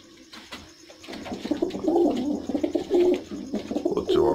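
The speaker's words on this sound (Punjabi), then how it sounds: "ਮਾਰੋ ਜੀ ਧਿਆਨ ਕਬੂਤਰਾਂ ਤੇ" Pet pigeons coo close by, their soft throaty calls repeating in overlapping waves over a few seconds with some rustling, and nobody speaking.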